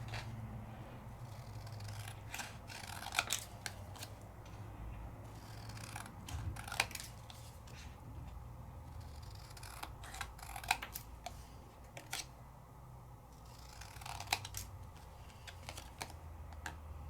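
Scissors trimming paper at a craft table, with a series of crisp snipping clicks at irregular intervals over a faint steady background hum, and no talking.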